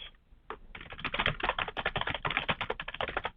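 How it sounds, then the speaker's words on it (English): Fingers type on a computer keyboard in a quick, uneven patter of close, crisp key clicks that runs steadily after a brief pause at the start. "So I'm typing in here."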